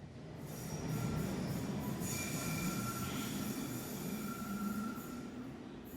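Underground train at a London station platform, its wheels squealing with a steady rumble that swells and holds for several seconds, close and fairly loud, with no talking.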